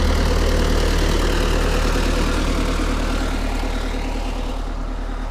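An MTZ 892 tractor pulls a four-furrow Bomet plough through heavy ploughing, its diesel engine a loud, steady low drone that runs unbroken throughout, with no talking.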